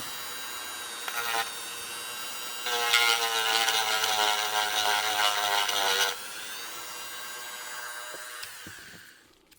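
A high-pitched rotary tool whines as it sands a TX-22 pistol part, with a short burst, then a sustained louder grinding whirr of several seconds before it spins down and trails off.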